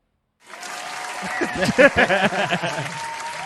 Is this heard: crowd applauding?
yes